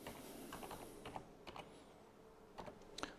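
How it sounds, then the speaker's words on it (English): Quiet close keystrokes on a computer keyboard, irregular taps and short clusters of clicks over faint room hiss. "I've got a keyboard next to me over here"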